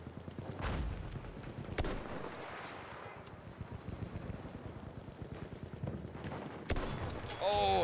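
Video game combat with a shotgun and a tank in play brings repeated gunshots and bursts of fire, dense and mid-distance, with sharp cracks scattered through steady battle noise and excited voices talking over it.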